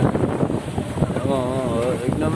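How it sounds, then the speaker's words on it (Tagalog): Strong typhoon wind roars steadily and loudly, buffeting the microphone, with a voice talking over the gusts. "tignan mo naman yung hangin, oh, napakalakas"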